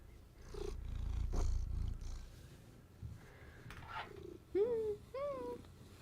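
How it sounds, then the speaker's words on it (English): A purring cat, close and quiet, with a low rumbling purr through the first seconds, followed by a few rising animal vocal squeaks near the end. "Can you hear him purring?"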